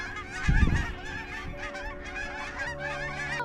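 A flock of wild geese honk together in overlapping, continuous calls, a busy flock chorus with a low thump near the start.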